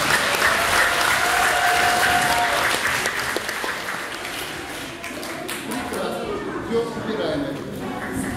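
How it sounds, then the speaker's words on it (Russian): An audience at a physics demonstration lecture breaks into sustained, dense applause that stays loud for several seconds, then thins slightly toward the end, with murmuring voices mixed into the clapping. "А где аплодисменты?"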